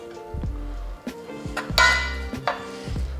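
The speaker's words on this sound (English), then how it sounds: "Mix it up, get a little bit of the juice and the mushrooms and the scallions." A utensil stirs and scrapes through a one pan dish of mushrooms and chives in its juices. The pan gives off a string of close metallic clinks and knocks in an uneven rhythm, and no one speaks.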